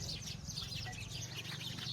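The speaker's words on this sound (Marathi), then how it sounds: "तर इकडं चिमण्यांचा चिवचिवात" House sparrows chirp and twitter continuously, some perched on wires, a busy chorus of small calls over a low steady background rumble.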